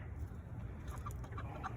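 Chickens cluck softly and steadily at dusk as they settle in for bedtime, a continuous low murmur of fowl sounds with a few brighter clucks rising briefly near the end.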